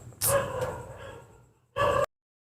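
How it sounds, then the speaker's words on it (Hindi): A dog barks twice nearby, a loud yelping bark followed after a pause by a second short bark, with no talk over it. "चलो कुत्तों का तो भौंकने का काम ही है"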